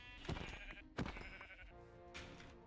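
Sheep in Minecraft bleat twice in quick succession, with a fainter third bleat after a pause, all fairly quiet and close, with no talking.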